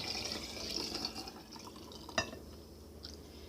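Homemade elderberry syrup pours into a glass mason jar, a close, trickling liquid stream that thins out with a brief clink midway, then a few faint drips.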